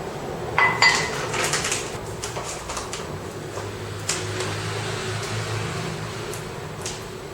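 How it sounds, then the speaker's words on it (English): Pancake mix tipped into a bowl in a home kitchen, with a few clinks and scrapes of a scoop or utensil against the bowl at the start, then a soft steady rustle and hum underneath. "add 2 cups of pancake mix to a bowl"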